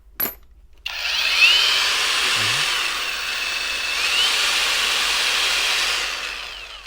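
A cordless three-speed angle grinder spins up after a brief click and runs steadily at a loud, even whine for several seconds, with a slight rise in pitch midway and no talking.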